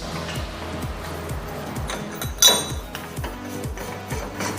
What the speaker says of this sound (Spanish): Primero hay que sostener esta tuerca, que es la tuerca de las cunas, y vamos a aflojar la contratuerca.